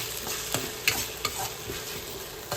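Tomato and onion are stir-fried together in a pan, with a steady sizzle broken by a few sharp scraping stirs, close and fairly loud with no talking.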